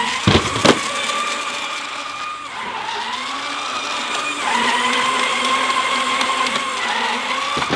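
A Raptor track drive geared 5.95 to 1 on black 68-durometer flat belts runs at high speed with a loud, sustained whining drone. The pitch swells and dips as the speed changes, and sharp clacks come near the start.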